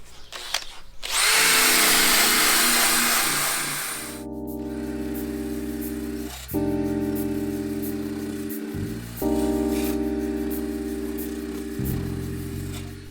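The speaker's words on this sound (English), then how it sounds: "find all my spot welds and then I can drill them out" A power drill whines loudly in sustained bursts, pitch shifting as it drills out spot welds in a Citroen Dyane's metal body, with brief pauses between runs and a short grinding burst before.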